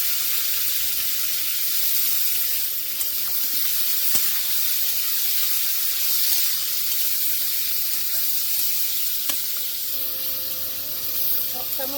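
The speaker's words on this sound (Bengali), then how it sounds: "পেঁয়াজ ভাজা হয়ে গেছে" Chopped onions sizzle in a pan with salt and tomato for a tengra fish curry, a steady hiss with a few soft clinks, heard close.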